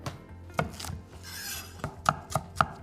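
A knife slices scallions on a cutting board in a string of crisp, close chops, first a few spaced strikes, then a brief rustle, then a quicker run of sharp knocks, with no speech.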